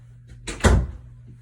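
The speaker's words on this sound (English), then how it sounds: "So I'm going to shut the door for privacy." A room door, likely a clinic or hospital door, is pushed shut with a single close, dull thud following a brief shuffle, set against a steady low hum.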